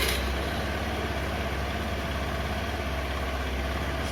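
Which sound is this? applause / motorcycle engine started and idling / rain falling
motorcycle engine started and idling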